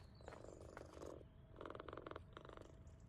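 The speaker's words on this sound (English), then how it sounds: "I hear kitties." Video-game cats in PowerWash Simulator 2 purr close up in a soft, rumbling, continuous rhythm that swells and fades in short breathy pulses.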